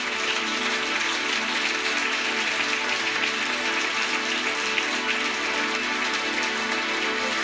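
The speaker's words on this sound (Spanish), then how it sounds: "¿Cuánto aplaudan fuerte a Jesús?" A church congregation applauds loudly in a dense, steady wash of clapping that holds without a break for several seconds, with no talking over it.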